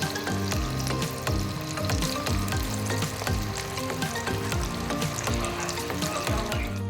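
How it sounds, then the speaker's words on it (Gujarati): Spinach, potato and poha tikki deep fry in hot oil over a medium-low flame, with a loud, continuous sizzle and bubbling and occasional stirring clinks close by. "હવે આપણે આ રીતે ડીપ ફ્રાય કરીશું."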